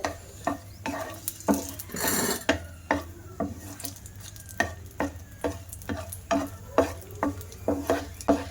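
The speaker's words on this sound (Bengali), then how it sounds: "তো লঙ্কাটা ভাজা করা হয়ে গেছে" Dried red chillies frying in oil in a frying pan for an onion-greens bharta, with steady, rhythmic scraping and stirring strokes repeating roughly twice a second over a soft sizzle and low background hum.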